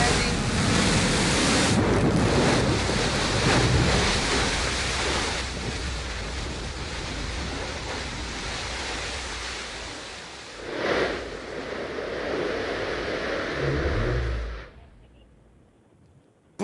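Blue Origin's New Shepard booster descends on its BE-3 engine, a loud, continuous broadband roar with wind-like rumble that swells briefly and then cuts off into near silence at touchdown.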